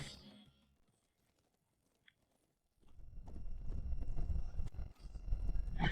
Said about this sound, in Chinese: 有马蹄声，小心！